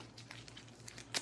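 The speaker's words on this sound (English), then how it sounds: "Shuffle it up." Faint, quick papery rustles and flicks come from Archipelago board game objective cards being shuffled at close range, ending in a slightly louder snap of a card.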